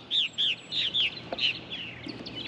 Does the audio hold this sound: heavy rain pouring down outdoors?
no